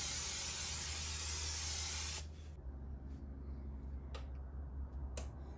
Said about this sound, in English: Let's coat the bottom of our 9x13 dish with olive oil cooking spray.